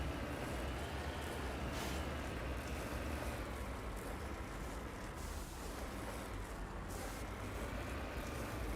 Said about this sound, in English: I like the new sound effects for the Mako.